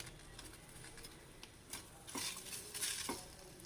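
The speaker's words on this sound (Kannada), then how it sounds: "ಸೋರೆಕಾಯಿ ಚಿಪ್ಪೆ ಹಾಕ್ಕೋಣ, ಹುರ್ಕೊಳೋದ್ರಿಗೆ" Bottle gourd peel frying in a pan, with a soft steady sizzle and scraping stirs, a few louder utensil clinks and scrapes against the pan partway through.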